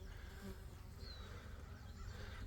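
Bees swarming around a small wild hive built inside an irrigation box during a live removal in Vista, Southern California, giving a continuous close buzzing hum, soft and steady, with no talking.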